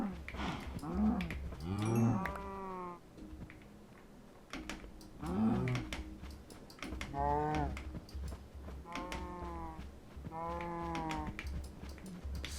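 Cows moo repeatedly in the Minecraft modpack GregTech New Horizons, about six drawn-out, tonal moos spaced across the stretch over a faint, steady low game hum.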